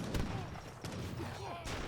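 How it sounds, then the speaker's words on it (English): Heavy cannon fire in Age of Empires III, sharp booming shots rattling off amid a dense battle din of gunfire, several blasts in quick succession with a commentator talking over the fighting. "There's a heavy cannon here as well, wailing on them."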